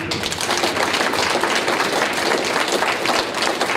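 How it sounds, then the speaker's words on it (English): Audience at a high school wrestling team banquet breaks into sustained, dense applause, many hands clapping loudly and evenly throughout with no talking over it. "I want to clap for Jordan"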